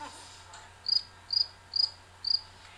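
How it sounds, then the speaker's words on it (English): A cricket chirps in four evenly spaced, bright bursts against a quiet background, each short trill clear and close. "So that's a cricket."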